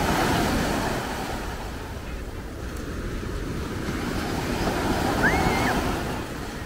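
Ocean waves wash in at Coney Island with a steady, broad rushing roar that swells and recedes, mixed with wind across the microphone.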